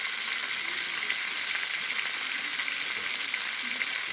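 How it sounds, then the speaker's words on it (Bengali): Plantain pieces with tomato and chili fry in a pan, giving a steady, dense sizzle that holds evenly throughout with no voices. "এই দিয়ে আমি কলাটা একটু কষে নেব"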